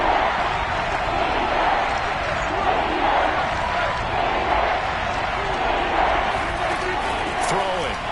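Steady roar of a football stadium crowd at a Cowboys game, building ahead of a big third down, loud and continuous throughout with an announcer talking over it.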